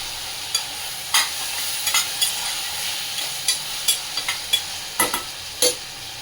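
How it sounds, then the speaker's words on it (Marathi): Potatoes and tomatoes sautéing in oil on a gas stove give a steady sizzle, broken by sharp scrapes and clicks of a spoon stirring against the pan at irregular intervals. "बटाटा व तेलामध्ये छान परतून घेते"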